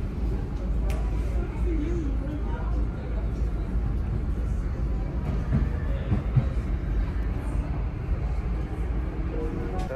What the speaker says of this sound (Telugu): కొండ మీద మెట్రో వేశారు